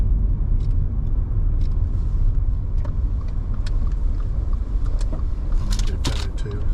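Steady low road rumble from inside a car driving along historic Route 66 on a Great Plains road trip, a constant engine and tyre drone with small rattles and clicks near the end.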